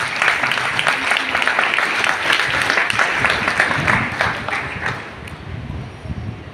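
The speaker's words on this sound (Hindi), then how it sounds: "जोरदार ताली बजाइए।" Loud, sustained applause from an audience at a church farewell ceremony for a departing reverend, a dense wash of clapping that carries on steadily for several seconds before easing slightly near the end.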